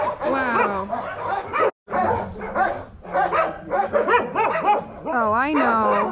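A large shelter dog in Kyiv, Ukraine barks and whimpers continuously at close range, with high whining cries and yips running through the whole stretch and only a brief pause.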